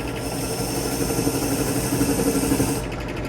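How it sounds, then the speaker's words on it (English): A drill press spins a wire brush against screws to scrub off paint, giving a steady, loud motor whir with gritty scraping that drops off sharply near the end. "I'm just going to use the wire brush on the drill press, see if I can get those cleaned up"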